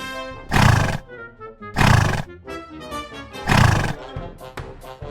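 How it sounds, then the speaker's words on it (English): A horse whinnies three times, loud and close, each long call rising and trailing off with short snorts and breathy noises in between. "Horse."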